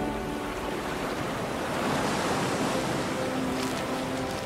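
Choppy sea water churns in continuous surf and wave wash, a dense, fairly steady rushing noise with some wind.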